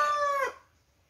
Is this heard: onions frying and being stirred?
no